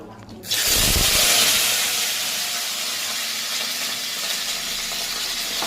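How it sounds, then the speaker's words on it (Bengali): Cauliflower florets fry in hot oil for a cauliflower, potato and paneer curry, a loud sizzle bursting in after a brief quiet moment and then settling into a steady hiss close by. "ফুলকপিগুলো ভেজে নেব"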